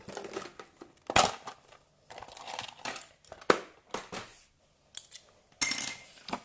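Scissors fussy cutting paper pieces, giving irregular close snips and crinkly rustles in short clustered bursts separated by brief pauses.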